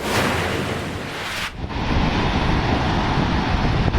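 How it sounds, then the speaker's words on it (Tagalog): Strong sea waves and gusting wind batter the coastal town of Palanan, Isabela, as a typhoon approaches; a loud, continuous roar of surf and wind rushes without a break and with no voices. "Malakas na alon at hangin ang nararanasan sa coastal town ng Palanan, Isabela."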